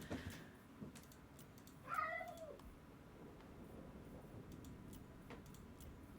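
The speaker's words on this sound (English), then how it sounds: "Cat's going crazy." A single drawn-out cat meow rising then falling, fairly faint, over quiet background with light clicking like keyboard typing and faint ticks.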